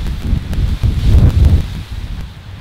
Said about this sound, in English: You gotta wait for this wind to pass. It's kind of strong.